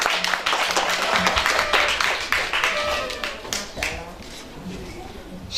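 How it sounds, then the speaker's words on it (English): Audience applause for a woman at a women's group tenth-anniversary event, dense continuous clapping held at a steady level throughout, with voices mixed in underneath. "Big round of applause of Hasna."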